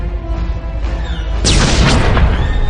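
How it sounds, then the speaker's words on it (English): Prison turrets on Belsavis fire on an Imperial ship in Star Wars: The Old Republic as it comes down through the atmosphere. A low rumbling engine drone gives way to a loud booming blast, with crackling impacts that keep sounding afterward. "Coming into Belsavis' atmosphere, the Imperial ship has come under fire from the prison turrets and is going down."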